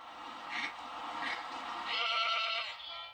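Goats brought in to clear large areas of tall grass bleat several times in overlapping, wavering calls, moderately faint, with a low rumble of outdoor background beneath.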